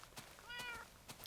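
A single short cat meow from a Minecraft-style video game, high and tonal with a bending pitch, fairly quiet and set among soft clicking and tapping.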